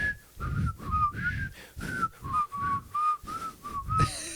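A person attempts to whistle, producing mostly breathy puffs with thin whistled tones in about nine short, rhythmic bursts, close and fairly quiet.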